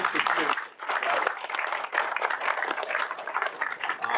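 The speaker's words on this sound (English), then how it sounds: "I think all of them deserve a round of applause" Members at a SMPTE Toronto section meeting applaud their board volunteers, giving a fairly quiet, moderately distant round of clapping that swells and dips over a few seconds.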